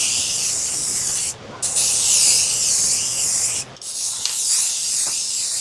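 Steady high hiss of a spray gun applying clear coat to a Volkswagen Jetta, two short pauses between passes, close and continuous.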